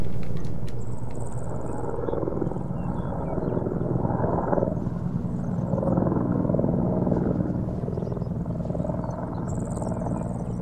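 Steady rotor drone of a helicopter in the military video game ArmA 3, loud and continuous throughout, with faint insect-like chirps from the game's ambience layered on top.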